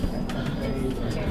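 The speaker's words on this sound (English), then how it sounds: "And these are little barn owls." Two small barn owls in an owl cafe in Akihabara, Japan, call softly back and forth, their faint cooing sounds close by and mixed with people talking.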